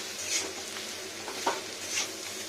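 Green jackfruit with salt, for a butter jackfruit dish, is stirred in an iron wok. Soft scraping and light clinks of the spoon come in a few sparse strokes over a faint sizzle, fairly quiet and close.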